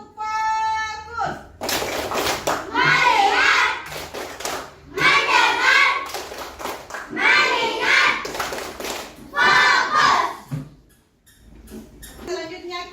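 Children chant and clap together in a classroom "tepuk fokus" routine, rhythmic bursts of sharp hand claps alternating with voiced chanting, repeated several times with short pauses, close and fairly loud.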